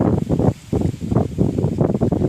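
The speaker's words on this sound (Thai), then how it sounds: "อยู่ในที่โล่งกว้างครับ ที่นี่ มีลมพัดสบาย" Wind blowing across a wide open outdoor area, heard as gusty buffeting rumble on the microphone that rises and falls in repeated bursts, close and fairly loud, with no speech.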